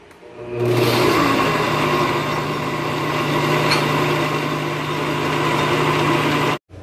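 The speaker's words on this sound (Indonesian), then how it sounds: "Blender ya sampai lembut, kira-kira 3 menit." A loud, steady motor whir runs for several seconds with a constant hum, then cuts off abruptly near the end, like a blender running.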